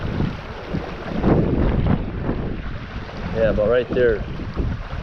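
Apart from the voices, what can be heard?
wind blowing at a creek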